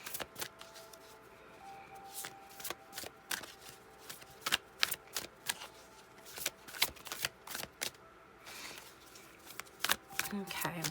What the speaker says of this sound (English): I'm just going to shuffle a couple more times and then cut.